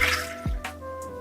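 Water from a tap runs and drips while a Rockwell 6S safety razor is rinsed at a sink, giving brief wet splashes and trickles close by over a low steady background.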